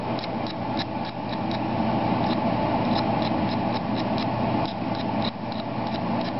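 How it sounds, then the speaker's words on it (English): A steady, whooshing fume hood exhaust fan runs continuously during a helmet repair, joined by a faint, regular ticking rattle throughout. "So that sound you hear in the background is the fan"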